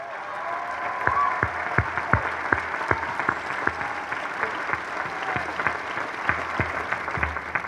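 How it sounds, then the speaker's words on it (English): Graduation ceremony audience applauding family, friends, teachers and mentors of the graduates: sustained crowd clapping across the whole stretch, steady and moderately close, with sharper individual claps standing out and no talk over it. "how about a hand for all of the family, friends, teachers, and mentors who helped these graduates along the way?"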